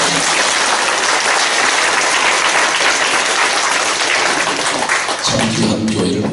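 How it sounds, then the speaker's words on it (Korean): A church audience applauds a choir with dense, loud, sustained clapping that fills the whole stretch and starts to thin and change near the end. "오늘 우리 합창단 앞으로 더 많은 활동을 기대하면서 박수로 영광을"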